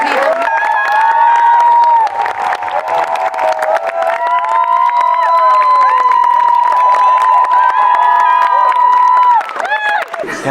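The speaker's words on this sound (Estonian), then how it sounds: "Nii et teeme aplausi." An audience applauds and cheers loudly for about ten seconds, with whoops and high shouts over dense clapping before it tapers off.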